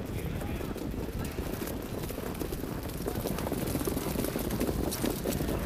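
Harness racing horses trotting at the start of a race at Meadowlands, a dense rumbling patter of many hooves over constant crowd and track noise, steady and moderately distant.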